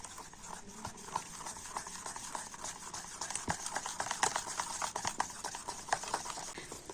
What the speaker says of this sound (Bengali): বেকিং সোডা বেকিং পাউডার দিয়ে ব্যাটারটাকে কিন্তু আবার একটু ভালো করে ফেটিয়ে নেব